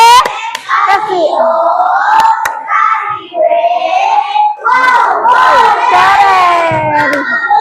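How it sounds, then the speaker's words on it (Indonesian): A classroom audience claps after a student presentation, with lively, sustained clapping mixed with loud shouting and cheering from children's voices, close and energetic throughout. "Tepuk tangan."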